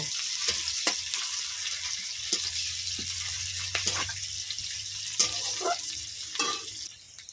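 Chopped onion with cumin seeds fries in oil in a pan for a lentil dal, giving a soft, steady sizzle broken by occasional scraping stirs and clinks, with no talking.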